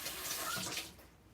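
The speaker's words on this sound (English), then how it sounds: "I just put water on my brush." Water runs from a kitchen tap onto a pastry brush used for salted caramel, a soft steady hiss that tapers off after under a second into faint residual noise.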